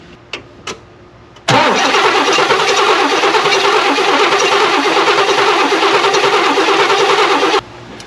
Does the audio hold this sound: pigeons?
no